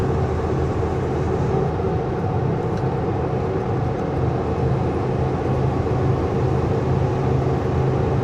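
Steady, loud low rumble of a truck engine with turbo whine and air-intake rush, heard from inside the cab without talk.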